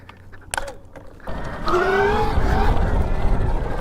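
A cheap 72-volt electric dirt bike ridden in race mode gives a rising motor whine over road and mechanical rumble, which grows louder and steadier after a brief clatter near the start.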